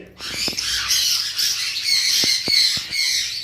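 Lovebirds squawk and chatter in a dense, continuous flock din, with several sharper, louder calls standing out near the end; no voices are heard.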